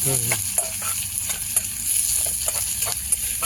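Crushed onion sautéing in a pan, a steady sizzle broken by repeated scraping strokes of a ladle, close and fairly loud.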